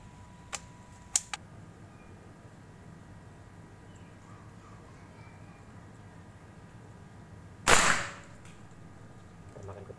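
A single sharp crack of an air rifle shot, fired with H&N Silverpoint pellets, stands out amid quiet surroundings, preceded by a couple of faint clicks.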